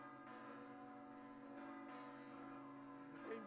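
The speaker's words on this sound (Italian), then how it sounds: "Senti le campane, Don Mimmo!" Festive church bells ring out for the feast of San Nicola in Bari, a sustained wash of overlapping tolls at moderate distance, steady throughout with a slight swell near the end and no talking.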